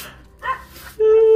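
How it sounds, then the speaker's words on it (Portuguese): Dogs barking at a rural farm property, short yips and barks in the background followed by a sustained whining, fairly close and alone without talk. "Os cachorros não param de latir."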